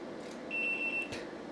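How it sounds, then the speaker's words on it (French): HP 3585B spectrum analyzer emitting a short, steady high electronic beep tone, faint and alone, followed by a brief click. "On a des bip-bip au début de la plage de balayage de l'instrument."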